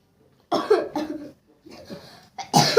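A child coughs in a string of short, dry bursts with brief pauses between them, close and clear in a quiet room.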